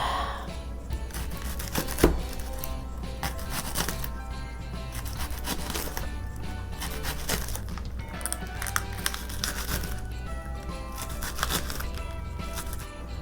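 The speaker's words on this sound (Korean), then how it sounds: "그 볶은 김치에 이제 들어갈 대파를 썰어 보겠습니다" Green onion sliced with a knife on a cutting board for stir-fried kimchi gives a long run of quick, steady, close taps and crunchy cuts, with no talking.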